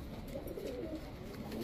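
A male Tiger Racer pigeon coos in a low, close, continuous warble throughout the short stretch, with no talking.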